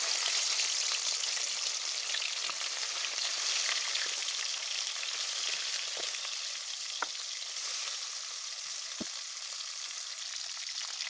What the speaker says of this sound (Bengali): কড়াইতে তেল দিয়ে এর ভিতরে আমি মাছগুলো দিয়ে দিলাম।